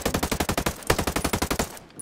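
Rapid bursts of automatic gunfire shooting down a Behemoth drone in Ghost Recon Breakpoint, a loud, rhythmic stream of about fifteen close shots with a brief louder crack midway, then stopping abruptly.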